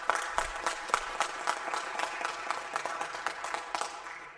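An audience at a school board meeting claps steadily, a moderate wash of many hands with distinct individual claps standing out, sustained evenly throughout without voices on top.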